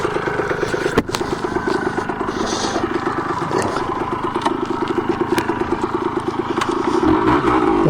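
A Kawasaki KE100 two-stroke motorcycle engine runs hard and steadily during a wheelie attempt, a continuous buzzing drone with a sharp knock near the start and the pitch climbing near the end, with no talking.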